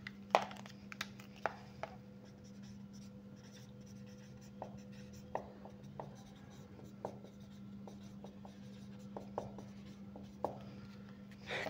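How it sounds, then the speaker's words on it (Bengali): Pen or chalk taps and scratches out handwriting during a physics lecture, quiet intermittent strokes and clicks over a steady low hum, with no talking. "আচ্ছা আগে লিখি আগে"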